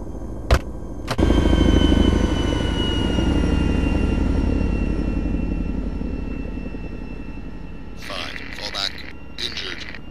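A Chinook helicopter in a realistic war video game roars loudly and steadily with a rumbling engine drone that slowly fades, cut in by a couple of sharp clicks near the start and a voice near the end.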